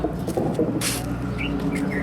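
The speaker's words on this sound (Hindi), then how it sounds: "यहाँ बुलबुल चिड़िया देखिए आपने।" Bulbul birds chirp at a cattle shelter and animal hospital in Nagaur, giving a few short, thin calls over steady low background noise.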